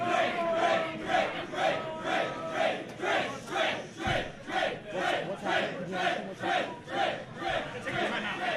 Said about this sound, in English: You can hear boos in the crowd right now.